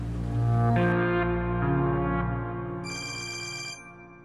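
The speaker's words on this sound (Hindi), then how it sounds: "10 बार तो शरीफर खाला फोन कर चुकी हैं, उठा लें आप।" An electronic telephone ringtone plays a repeating melodic tune of bright, steady tones, clear and fairly loud with no voices over it.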